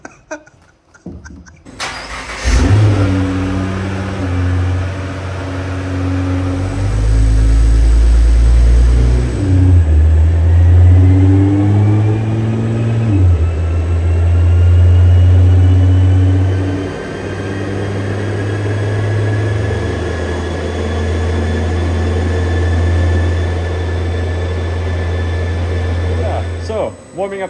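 Built Nissan R35 GTR engine on a dyno, starting and then revving loudly in sustained surges that rise and fall, with a steady deep drone between pulls and a brief voice near the start.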